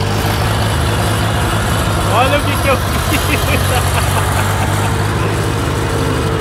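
A tractor with no fenders runs with a steady low engine drone throughout, close and loud, while someone talks over it.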